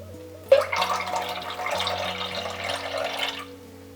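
Water is poured into a pot while ceremonial cacao is being made, a short close splashing pour lasting about three seconds over a faint steady hum.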